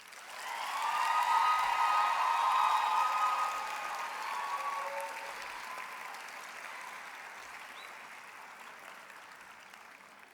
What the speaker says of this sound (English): I would like to ask the graduates themselves to applaud their families, friends, spouses for all the support they received over the years.